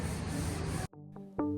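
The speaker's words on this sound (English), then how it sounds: "You can see his sanding strokes are going the full length of the door just to give it some nice consistency." Hand sanding the bodywork of a Lexus car door with long full-length strokes makes a steady, close rasping rub that stops partway, followed by faint tonal noises.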